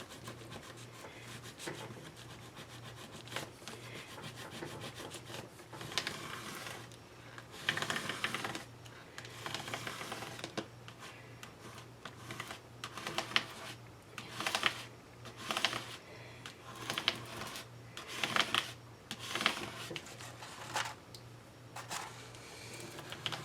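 A credit card scrapes and rubs repeatedly across a handmade Wicked Witch Halloween wreath sign, giving soft, uneven bursts of friction close by with brief pauses between strokes.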